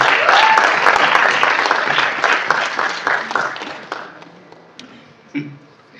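An audience claps loudly for Siddharth at a Marathi entertainment event. The dense applause fills the room, then thins and fades over about four seconds, leaving a few scattered claps.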